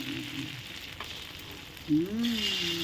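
Beaten egg with chopped cha-om (acacia) leaves fries in hot oil as an omelette, with a soft continuous sizzle and a brief tonal, voice-like sound near the end.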